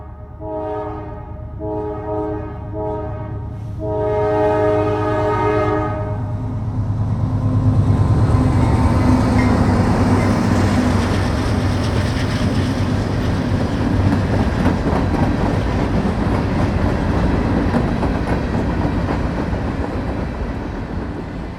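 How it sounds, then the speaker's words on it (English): A Norfolk Southern freight train on the Roanoke and Hagerstown districts sounds its horn in several loud blasts, then rumbles past close by with a continuous heavy roar and rattling wheels lasting the rest of the clip. "chasing trains on Norfolk Southern's Roanoke and Hagerstown districts"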